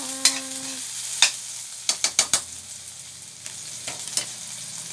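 Vegetables with moringa leaves sautéing in a pan: a low continuous sizzle broken by a handful of sharp clanks and scrapes from stirring, close by, with no voices.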